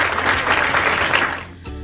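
An audience applauds for childcare workers, a dense burst of clapping that fades out after about a second and a half.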